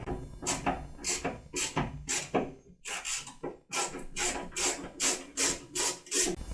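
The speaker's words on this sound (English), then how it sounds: "So now we can get the bolts out." Tool work on a Nissan 240SX fuel pump sending unit as its bolts are removed, giving repeated scraping, rubbing bursts in a steady rhythm, close and fairly loud, with no talk.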